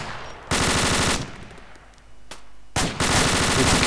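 Video-game machine-gun fire in a British 40 Commando Royal Marines raid scenario, heard as loud, close bursts of rapid automatic shots, with one long burst, a quieter gap, a single sharp report, then another sustained burst.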